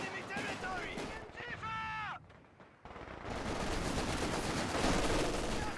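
Light machine gun fire in the real-time strategy game Company of Heroes 2, with bursts of rapid gunshots and a brief electronic tone, then a short gap before dense sustained firing resumes loudly.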